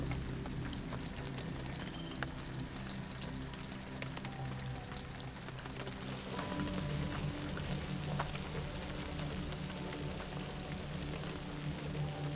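Artificial rain falls inside the Biosphere 2 wilderness area as a continuous, even hiss of pouring water, steady and fairly close, with no voices.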